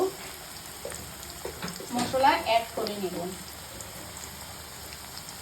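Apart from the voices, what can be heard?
onions frying in a pan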